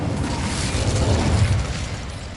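An Incendio fire spell is cast in Hogwarts Legacy, a loud, sustained roaring whoosh of flame with a low rumbling burst, steady for a couple of seconds with no talk.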